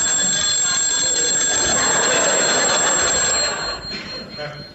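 An old-style telephone bell rings in a cafe in a radio comedy sketch, a sustained bright metallic trill that cuts off near the end, with voices speaking around it.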